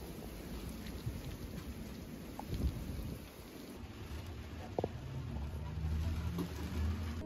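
A thunderstorm at Nassau brings steady, dense rain pattering on surfaces, with low rumbles of thunder rolling underneath throughout.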